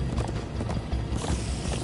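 Horses galloping in the video game Minecraft Story Mode, quick rhythmic hoofbeats pounding close and loud over a rumbling background.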